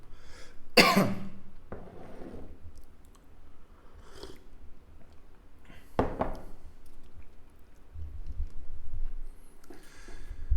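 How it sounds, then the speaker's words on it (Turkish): A single sharp cough near the start, followed by a few softer throat sounds and smacking noises against a quiet background. "Öksürük tutacak gibi görünüyor."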